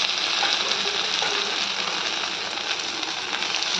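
Cumin seeds, dried red chillies, bay leaves and ginger frying in hot oil, a loud, dense, continuous sizzle with steady crackle throughout.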